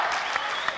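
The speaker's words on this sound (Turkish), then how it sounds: "Oryantalistan Reyhan'a bir alkış" Studio audience applause for a belly dancer on a Turkish TV show, a dense steady wash of clapping from a crowd, loud and continuous for under a second.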